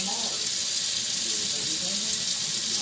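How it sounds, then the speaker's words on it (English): Hands are washed under a running kitchen tap, giving a constant soft hiss of flowing water that splashes faintly throughout. "let me wash my hands real quick"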